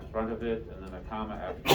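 A single sharp sneeze bursts out near the end, right after a teacher's grammar explanation during a classroom lesson, with talk filling most of the moment before it.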